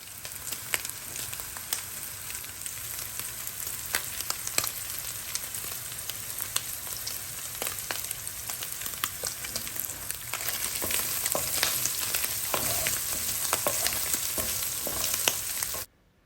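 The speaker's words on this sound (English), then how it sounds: "I'm gonna stir it up, and then I'm going to, like, smooth them out, give them a lot of space so they can fry." Spam and garlic fry in a pan with a steady, dense sizzle and crackle, close and fairly quiet, with occasional scraping stirs before the sound cuts off abruptly.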